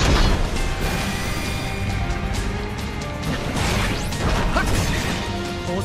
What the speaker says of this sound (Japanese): グレネード、投擲。